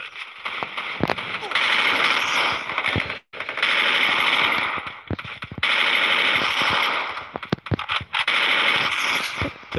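Automatic gunfire in the mobile shooter Garena Free Fire roars in long, loud, rapid bursts broken by brief pauses, while someone talks over the shooting.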